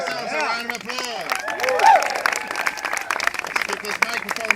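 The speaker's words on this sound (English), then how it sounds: "Let's give ourselves a round of applause." Crowd at an Indiana gathering in Hammond giving a round of applause, clapping blended with cheering voices and chatter, rising briefly then tapering under continued babble.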